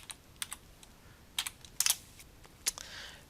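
Typing a search on a computer keyboard, a short series of light, irregular key clicks, close and fairly quiet, with no voice.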